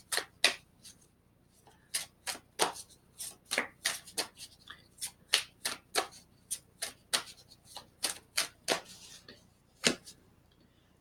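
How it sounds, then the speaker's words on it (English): Tarot cards riffle-shuffled by hand, a run of sharp, crisp flutters and snaps repeating in quick uneven bursts, close and fairly quiet with no talking. "Haven't even shuffled the cards yet."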